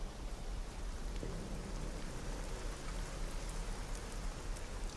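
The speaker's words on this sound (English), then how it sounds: "The rain." Steady rain falls without letup, a dense even hiss of drops hitting surfaces at constant loudness, with no voices or other sounds.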